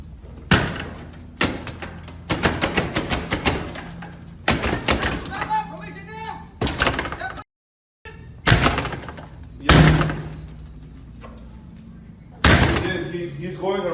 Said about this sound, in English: He's going erratic. He's about to break the door.